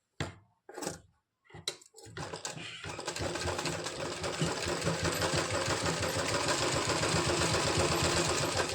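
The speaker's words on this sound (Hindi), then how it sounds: "ये देखिएगा अब हम इस पर सिलाई लगाएंगे।" A sewing machine stitches a handmade fabric cord, starting with a few short stop-start bursts, then settling into a fast, steady, close mechanical whirring that keeps running to the end.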